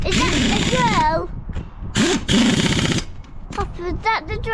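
A pneumatic impact wrench fitting new wheels to a Land Rover Defender 110 rattles in two loud, hammering bursts, with people talking and a voice between them.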